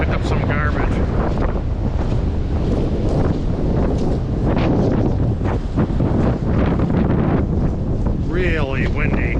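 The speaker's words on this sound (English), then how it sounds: "Really windy." Strong gusting wind roars continuously into the microphone outdoors during a December windstorm in Buffalo, steady and loud throughout with a brief voice near the end.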